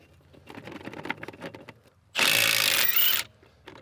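A Milwaukee M18 FUEL Gen II 1/2-inch mid-torque impact wrench hammers loose rusty 25mm lug nuts, one loud sustained burst of about a second, with lighter clattering handling noises before it and a short tail after.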